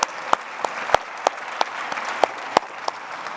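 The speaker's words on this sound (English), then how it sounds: "Let's give everybody a quick round of applause for that kind of work." A small audience at a community college student leadership summit gives a quick round of applause: sparse, separate claps with a few sharp distinct hits spaced through the clip, moderately quiet.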